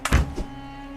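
A single sharp gunshot-like thunk fired in the video game The Forgotten City, a short loud impact with a quick low-end body followed by a smaller echoing knock and a fading tail.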